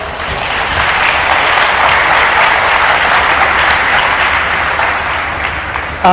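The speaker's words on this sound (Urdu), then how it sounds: "آپ کی بہت ساری تالیوں میں" Dense, sustained applause from a large audience greets a young Quran reciter at an Islamic institute event, steady and loud throughout with no speech over it.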